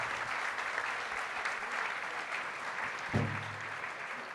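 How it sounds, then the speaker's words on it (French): An audience at a corporate fleet and mobility gala claps steadily, a dense wash of applause heard from within the room and held at an even level. A brief voice cuts in near the end. "On peut les applaudir très fort."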